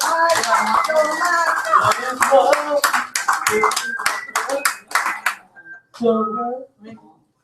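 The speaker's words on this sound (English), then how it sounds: "let's give another warm round of applause to Michael." An audience claps at a live weekly poetry event in a cafe, a burst of hand claps that thins toward the end, with people talking over and after it.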